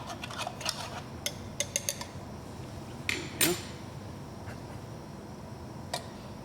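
Ground coffee being stirred into cold water for a cold brew of El Salvador Finca La Ilusion Natural Bourbon, heard as scattered light clinks and scrapes of a utensil against a vessel, close and intermittent, with no talking.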